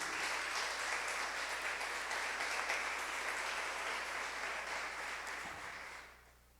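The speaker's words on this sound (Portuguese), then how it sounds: "Aplauda a Jesus por isso" Church congregation applauding steadily during a sermon, a broad, even wash of many hands clapping at moderate distance that fades out near the end.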